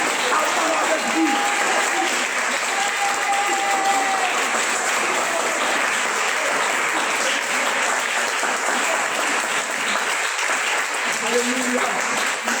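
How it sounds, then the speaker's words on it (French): A church congregation at a Réveil International Jésus Revient service in Yopougon claps loudly and continuously throughout, a dense roar of many hands filling the room, with faint voices beneath. "acclame fortement le Seigneur Jésus. Acclame avec vie"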